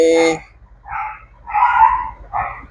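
A dog gives a few short barks and yips, spaced irregularly, fairly close and clear against a quiet background.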